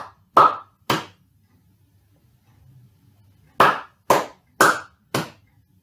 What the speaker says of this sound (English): Which rhythm am I clapping?